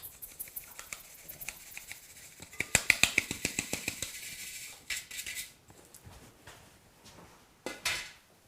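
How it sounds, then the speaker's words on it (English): Flour sifted with a little baking soda and salt for a peanut butter bundt cake, heard as a run of soft rhythmic taps and rattling strainer patter, closer and busier in the middle, with a few clinks near the end. "I'll give this a bit of a sift."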